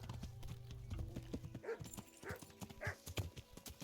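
Horse hooves clip-clop in a steady trotting rhythm in the medieval role-playing game Kingdom Come: Deliverance, moderately close and clear, with scattered background game sounds and no talk.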